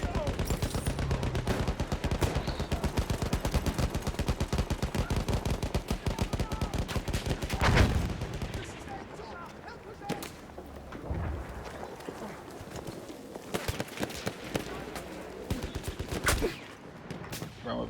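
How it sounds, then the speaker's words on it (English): Rapid bursts of gunfire in the video game Battlefield 1, a dense rattle of automatic and single shots that is loud early on, then thins out into scattered volleys and sharp cracks. "Where am I being shot from?"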